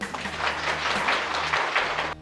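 Audience applause at a Hindi Ramayana quiz competition, greeting a correct answer: a steady wash of hand claps, moderately loud, lasting about two seconds before cutting off abruptly.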